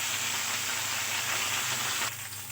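Coriander and green chillies fry in a pan, a dense steady sizzle and crackle close up that eases slightly near the end, with no one talking.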